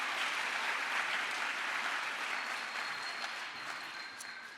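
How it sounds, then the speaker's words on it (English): A college State of the College event audience applauds the mariachi and folklórico performers, giving broad, even clapping from a sizable crowd that fades slightly toward the end. "applause for Mariachi Los Vikingos de LBCC and Folklorico"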